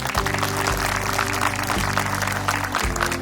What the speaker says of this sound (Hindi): उसके लिए जोरदार ताली बजाइए।